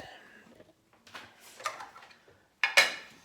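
A frying pan is handled and set down for cooking an egg white omelette, with a few soft knocks and then a sharp metallic clatter near the end, close and fairly quiet.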